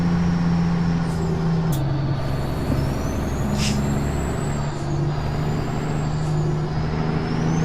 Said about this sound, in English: I don't stall the truck, but I start cruising real slow because of the hill